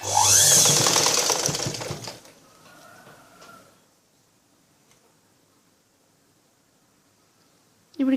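Sewing machine stitching a blouse, a loud rapid mechanical whir for about two seconds that cuts off, followed by quiet handling sounds.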